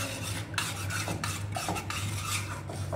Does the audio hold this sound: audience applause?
no